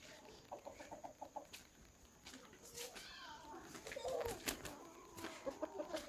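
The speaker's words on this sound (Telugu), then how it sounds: "కోళ్ళు అయితే మరి ఎక్కడ పడితే అక్కడ ఉన్నాయి కోళ్ళు" Chickens cluck and call repeatedly around a tribal village home in dense forest in Andhra Pradesh, close and moderately loud, with other bird calls, faint rustling and an occasional human voice in the background.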